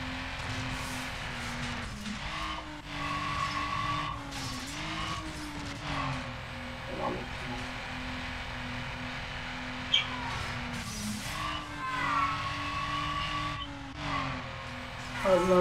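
Racing car in the video game Need for Speed Underground, its engine droning steadily with pitch rising and dipping through shifts, plus brief tire squeals and game effects, fairly loud and continuous with no talk.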